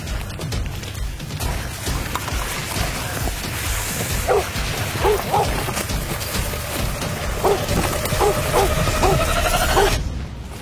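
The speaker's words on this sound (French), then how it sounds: "T'es un bon chien!" A blood-tracking hunting dog barks in a short series of sharp yips near the end of the recovery of a shot game animal, the barks fairly close over rustling outdoor background and faint voices.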